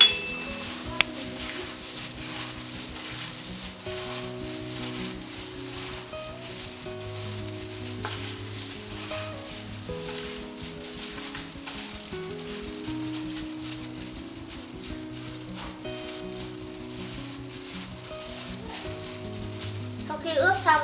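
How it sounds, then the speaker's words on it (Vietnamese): Steady sizzling of turmeric-marinated fish frying in hot oil, continuous and fairly close, with faint clinks of a pan and utensils now and then, underneath soft background music. "Bây giờ dầu đã sôi thì bắt đầu mình cho cá vào mình chiên."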